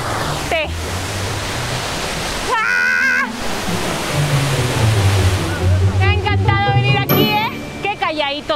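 Waterfall at Chignahuapan in Puebla, Mexico, pouring as a steady, loud broadband roar throughout, with voices talking over it in places.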